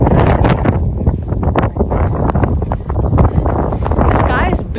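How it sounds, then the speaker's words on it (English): Steady, heavy wind on a clear day in London buffeting the microphone, a constant low roar with gusty surges throughout. "The sky is blue, but it's so windy."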